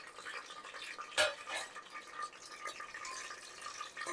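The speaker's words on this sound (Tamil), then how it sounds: "இது போட்டு கொஞ்சம் நல்லா கிளறி விடணும்" Whole spices are stirred in a pan for a soya vegetable biryani, giving faint scraping and clinking of a utensil against metal, with one sharper knock near the start and soft rustling after it.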